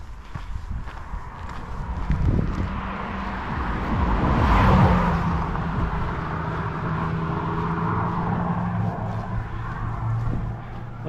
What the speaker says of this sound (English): That was a young idiot in a souped up car.